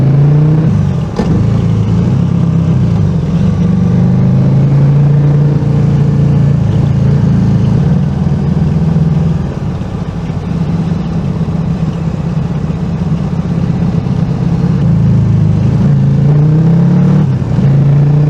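A car engine hums steadily while driving along a small, rough road in France, with a continuous low rumble and a faint rise and fall in pitch as the car changes speed.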